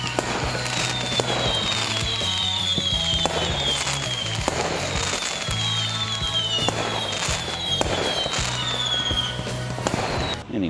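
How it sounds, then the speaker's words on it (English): Fireworks at Patong Beach burst repeatedly in a long series of sharp bangs and crackles with whistling rockets streaking up, fairly steady and moderately near, over a busy beachfront background. "Mate, I see fireworks going off here every night."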